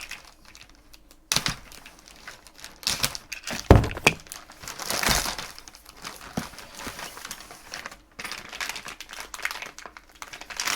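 A plastic bag holding tools for an ARRMA Typhon 6S RC car is handled and opened, giving intermittent crinkling and rustling bursts with a few sharper knocks, fairly close and quiet.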